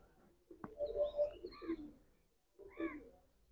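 Soft pigeon coos in two short bouts separated by a pause, close and fairly quiet, with a sharp tap early on.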